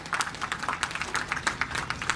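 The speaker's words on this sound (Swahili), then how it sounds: "Tuwapige makofi wabia wetu." A crowd at an outdoor public address by the Tanzanian president in Nala, Dodoma applauds in scattered, uneven claps, moderately loud and slightly distant, without voices.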